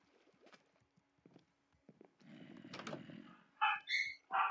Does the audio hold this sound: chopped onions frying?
no